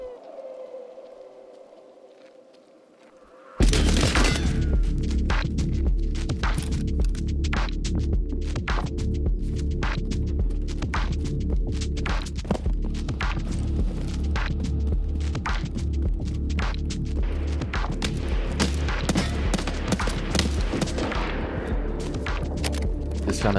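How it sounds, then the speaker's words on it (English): Sustained loud automatic gunfire in Escape from Tarkov, a rapid stream of sharp cracks over a heavy low rumble, starting abruptly after a short quiet moment and continuing for about twenty seconds. "This gun is so incredibly loud, I just attracted the whole map to my location."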